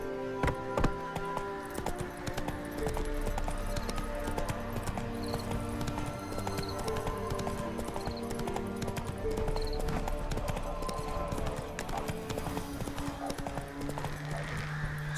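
A ridden horse's hooves clip-clop in a quick, steady rhythm on a hard surface, fairly close, with a few brief voices mixed in.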